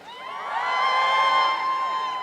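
A large live crowd at a Formula 1 preview event at Silverstone cheering and whooping, a dense roar that swells and holds, loud and sustained with many overlapping voices.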